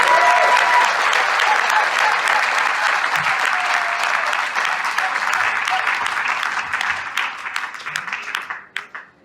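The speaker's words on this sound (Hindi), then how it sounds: "एक बार जोरदार तालियां।" Loud audience applause at a business seminar, a dense roar of many hands clapping that holds strong for several seconds, then thins into scattered claps and stops near the end.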